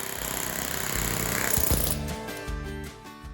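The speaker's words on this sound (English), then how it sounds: "This pneumatic hammer kept giving me problems." A pneumatic hammer breaking up tile chatters in rapid, steady bursts up close, its harsh rattling pulses hammering continuously with a brief shift in pitch midway; the hammer's barrel tends to loosen.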